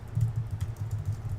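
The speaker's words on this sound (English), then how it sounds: "So if I was to type the same thing" Brief burst of typing on a computer keyboard, soft muffled key taps in quick succession, faint and close, with no voices.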